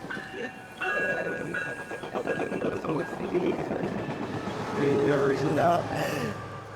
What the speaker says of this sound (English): the train's about to cross by